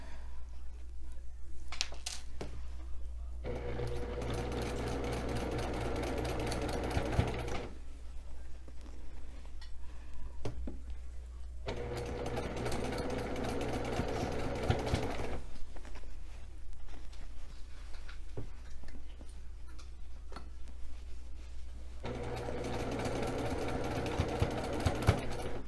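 A sewing machine stitches fabric for a Valentine throw pillow, running in three steady bursts separated by short pauses, with a low constant hum underneath and no talking.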